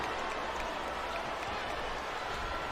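Capacity crowd in WWE SmackDown vs Raw 2007 cheering at WrestleMania 22, a dense, steady wash of arena noise that stays at an even level throughout, with faint voices blended in.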